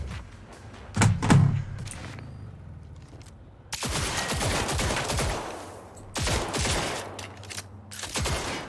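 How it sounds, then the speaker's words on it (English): Police gunfire erupts in Cyberpunk 2077, with sharp bursts of shots ringing out in rapid volleys, a loud cluster early on and then long stretches of sustained, dense firing that continue to the end. "Why am I being shot at by the police?"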